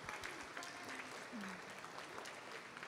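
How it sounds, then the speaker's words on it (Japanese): Faint, distant applause for Erin at an online session of the Yokohama Paratriennale summit, a soft continuous patter of many hands heard over a video call. "エリンさんにもう一度大きな拍手を画面越しですけど送りましょう"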